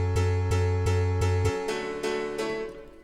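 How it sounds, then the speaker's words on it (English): Layered synth chords pulse in a triplet rhythm, several evenly spaced sustained stabs with a deep low layer that drops out midway, leaving brighter chords ringing and fading at the end. "So it's the same rhythm as the chords, which obviously sound like this."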